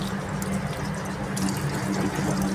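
Water gushes from a household tap mixer into a sink and splashes steadily, a close, continuous rushing that fills the whole stretch with no talking.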